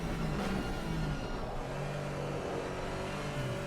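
In a racing video game, a Ren Sport Porsche GT4 race car engine roars at high revs, a dense, loud, continuous drone with shifting pitch and no voices.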